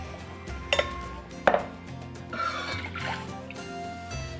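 Half a cup of bourbon poured into a cooking pot for a cherry glaze, a short liquid trickle after a couple of sharp clinks of glass and metal, close and clear.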